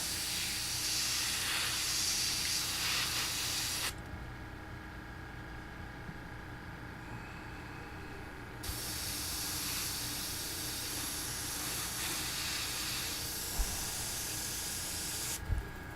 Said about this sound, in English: This can spray a little bit better.